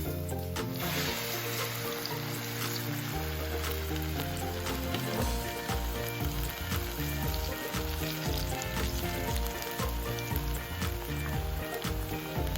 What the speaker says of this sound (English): We're gonna fry it again.